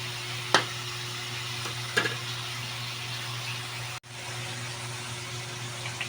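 Dinuguan, a Filipino Ilocano pork blood stew, frying in a pan until crispy, with a steady low sizzle and hum and a couple of sharp stirring clinks.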